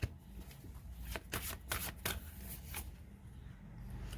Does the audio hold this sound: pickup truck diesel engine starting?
no